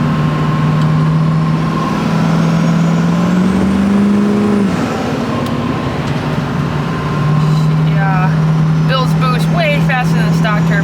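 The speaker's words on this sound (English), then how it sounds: "There's a 68mm turbo from LDS and 45 over LDS sack injectors. We're just spinning the whole time." An LB7 Duramax diesel truck with a 68mm LDS turbo and 45-over LDS sac injectors drives on rough roads, a loud steady drone with a faint high turbo whine, and someone talks over it near the end.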